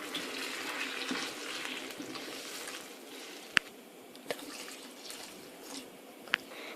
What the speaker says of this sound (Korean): 다 됐으면 물부어줄게요두 컵 넣어주도록 하겠습니다.